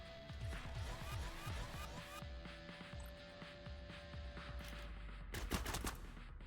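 Rapid, repeated gunfire from the tactical game Cyber Knights: Flashpoint crackles in dense bursts, a steady rattle of shots over a constant background, ending in a few sharper, louder blasts.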